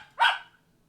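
A single sharp dog bark rings out once, fairly close and loud, with a quick decay into near silence and no voices.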